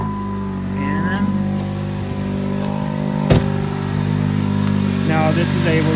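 A car engine, jump-started with a Tacklife T8 jump starter, runs steadily at close range with a sharp click partway through, while a person talks over it.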